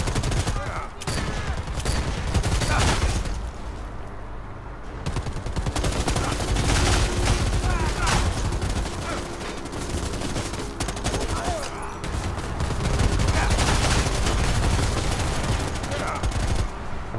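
Gunfire in the game Predator: Hunting Grounds, dense overlapping bursts of rapid shots sustained loud and close throughout, with brief lulls and occasional voices underneath.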